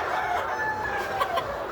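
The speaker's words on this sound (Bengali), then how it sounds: "মুরগিরাও বোঝে যে এখন আমাদের খাদ্য দিবে।" Chickens on a small poultry farm cluck and murmur steadily at close range, with a few louder calls rising briefly out of the continuous flock chatter; no one speaks.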